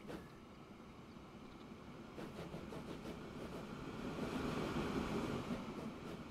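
A huge train passes in the Transport Fever 2 simulation game. It is a faint, continuous rail rumble and clatter that slowly swells louder as it goes by.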